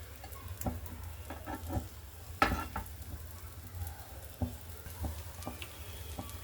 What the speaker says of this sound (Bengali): একটা টিক্কি দিয়ে তার মধ্যে ওটা হালকাভাবে আমি শ্যালো ফ্রাই করে নেব।